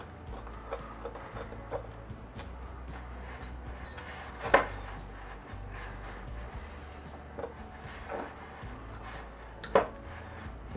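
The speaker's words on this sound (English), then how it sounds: "We're going to go ahead and give that a quick mix." A tablespoon of milk and powdered sugar are stirred into a thick icing for lemon bread pudding, with soft repeated scraping and rubbing of a utensil against a bowl, quiet and close, with a couple of sharper clinks.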